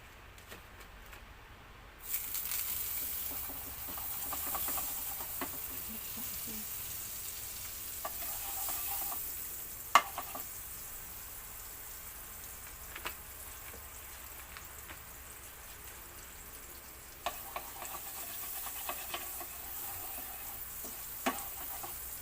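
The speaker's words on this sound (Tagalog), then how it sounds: "Lagyan na natin ng butter yung kawali." Butter sizzling and frying in a pan for garlic broccoli, a steady soft crackle that starts abruptly and continues with occasional stirring clinks and taps, fairly quiet and without talk.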